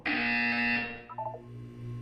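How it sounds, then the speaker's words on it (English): A loud electronic buzzer from the video game Portal 2 sounds as a single sustained harsh tone lasting under a second, then cuts off into quieter chirps and a low background hum. "When you hear the buzzer, look down at the floor."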